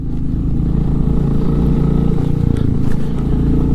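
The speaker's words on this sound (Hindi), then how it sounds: "ओम भाई की होंडा हाइनेस हर मोड़ पे जवाब दे रही है" Honda Highness motorcycle engine labours loud and close in low gear on a bumpy mountain road, a steady throbbing drone with rough, uneven pulses and rattles.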